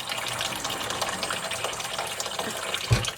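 Water gushes steadily into a bowl that is being filled to overflowing, a close, continuous pour with a brief low thump near the end and no talking.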